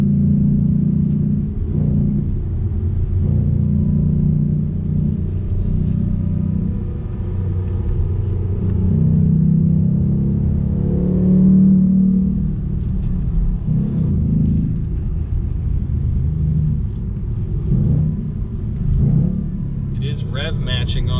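A 2019 Ford Mustang Bullitt on a race track gives a continuous low engine rumble with brief blips from automatic rev matching, heard from inside the car with a person talking throughout.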